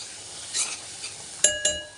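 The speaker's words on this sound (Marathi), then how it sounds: "तर हे चांगलं फ्राय होऊ द्यायचं वाटण" Paste of onion, coconut, ginger-garlic and coriander frying in a pan for chana masala, a steady close sizzle with a couple of sharp clinks of a utensil against the pan near the end.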